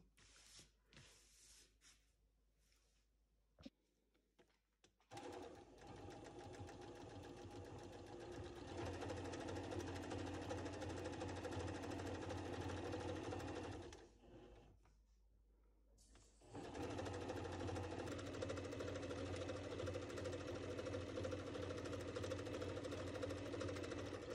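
A sewing machine stitches an envelope pillow cover at close range, its motor droning steadily through two long runs split by a brief pause, after a few short taps and starts at the beginning.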